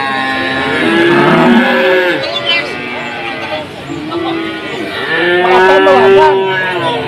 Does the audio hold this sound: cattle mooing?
yes